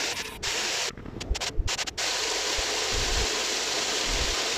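Water gushes in a strong, continuous rush, loud and close, with a brief dip where the flow is interrupted before the steady roar returns.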